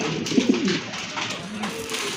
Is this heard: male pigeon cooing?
yes